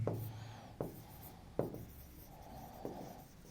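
A marker or chalk scratches across a board in short strokes, with a few sharp taps where each stroke starts, faint and close in a quiet abstract algebra lecture room, with no talk.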